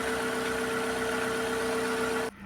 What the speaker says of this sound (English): What you want to see and hear is this. A nice response to the gas pedal, no hesitation